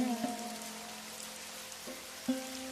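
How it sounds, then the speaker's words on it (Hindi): Rain falls as a steady, even hiss across the whole stretch, with a faint tonal hum and a couple of soft knocks underneath. "ये बारिश भी उसी दिन होनी थी जब मैंने छत की मरम्मत का सोचा था"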